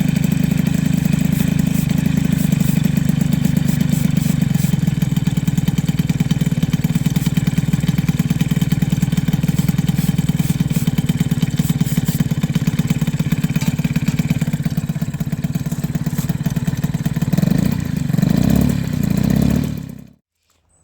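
A moped engine fitted with a custom TPU exhaust pipe, running loud and close with a steady buzzing drone that rises and falls slightly as it revs on its own, then cuts off abruptly at the end.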